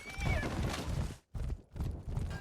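Horse galloping in the video game For Honor, rapid dense hoofbeats with a whinny near the start, continuous and close with a brief break.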